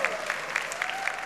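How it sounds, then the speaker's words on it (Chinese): A church congregation at a Sunday service applauds warmly, with dense, even clapping filling the room. "以最烈的掌声给我们的神。"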